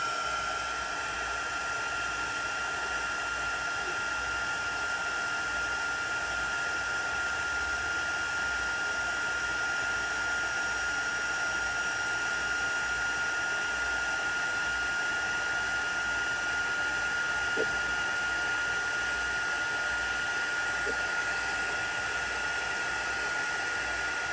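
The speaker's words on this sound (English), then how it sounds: "I have my heat tool here and we're going to emboss this" A heat embossing tool blows a steady, continuous whirring rush of hot air over a card for a long stretch, with no talking.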